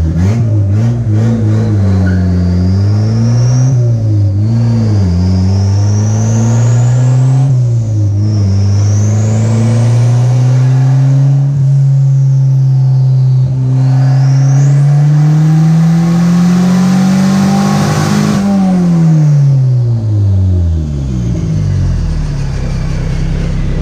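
A 1986 Honda CRX with an LS-VTEC turbo engine revs hard on a dyno, its loud droning note climbing steadily through the gears with brief dips at each shift, then dropping off at the end of the pull.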